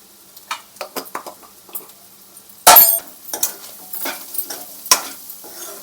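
Basmati rice being stirred with coriander powder and garam masala in a pan, with scattered spoon scrapes and taps against the metal, one loud clattering knock, and a faint sizzle beneath.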